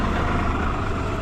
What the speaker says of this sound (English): So let the tractor warm up.